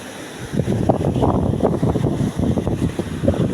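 Rushing water of Pinlac Falls in Infanta, Quezon, a steady loud wash of mountain stream water pouring down, continuous and close with no talk over it.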